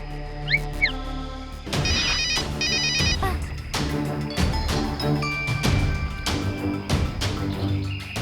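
A telephone rings repeatedly in bursts of electronic trilling tones, with clattering knocks and busy background noise between the rings.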